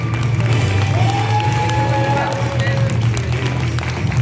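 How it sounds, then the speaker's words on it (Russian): An audience applauds as a prize is awarded to a team at a festival ceremony. The clapping is loud and continuous, mixed with crowd noise, cheering and voices. "Аплодисменты."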